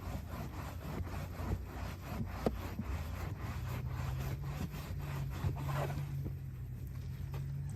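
Microfiber towel wiping a car's paint during an F11Pro waterless wash, a steady close rubbing and swishing that continues throughout with a low hum underneath and no talking.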